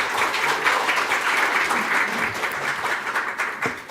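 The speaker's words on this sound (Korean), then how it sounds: "여러분의 큰 박수로 무대 위로 모셔보겠습니다" A hall audience applauds to welcome a speaker to the stage at an internet journalism awards ceremony, a steady dense clapping that tapers off near the end.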